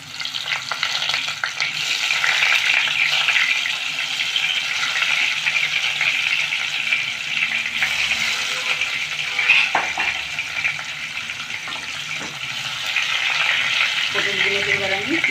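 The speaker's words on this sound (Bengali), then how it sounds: "তেলটা গরম হয়ে গেছে পটলগুলো" Slit pointed gourd pieces frying in hot mustard oil in a wok, a loud, steady sizzle that runs throughout with occasional stirring clinks.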